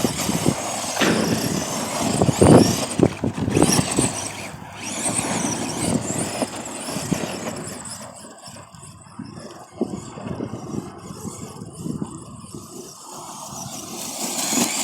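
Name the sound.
Arrma Granite Voltage RC car doing donuts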